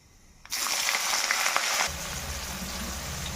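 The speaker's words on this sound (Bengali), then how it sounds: "প্রথমে আমি এবার বেগুনগুলো তেলের মধ্যে দিয়ে দেব।" Eggplant pieces dropped into hot oil with five-spice tempering, bursting into a loud, steady sizzle for over a second before easing to a softer bubbling hiss.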